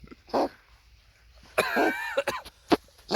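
A cat coughs and hacks in several sharp bursts, close by, with a short pause between the first cough and a longer wheezing fit, as if fish went down the wrong way.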